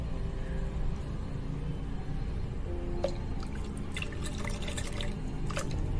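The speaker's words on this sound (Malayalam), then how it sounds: "നമുക്കിനി ലാസ്റ്റിൽ തേങ്ങാപ്പാൽ ഒഴിച്ചു കൊടുക്കാം." Coconut milk pours into a Ramba leaf pudding mixture in a soft, continuous liquid trickle with a few faint drips and splashes over a low background hum. No one speaks.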